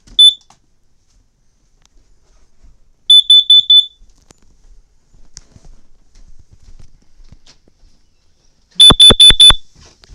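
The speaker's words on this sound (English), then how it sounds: "This is a carbon monoxide detector." A carbon monoxide detector under test gives sharp, piercing electronic beeps in short groups of four: a single chirp, then a quick burst, a quiet pause, and a final loud burst of four close beeps.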